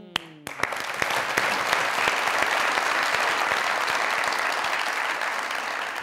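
Sustained studio audience applause on a Pakistani comedy talk show set, starting abruptly after a brief lull and holding as a dense, loud, even wash of clapping for several seconds.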